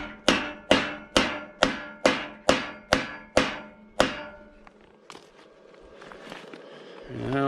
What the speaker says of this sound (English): we need to hammer this whole thing in.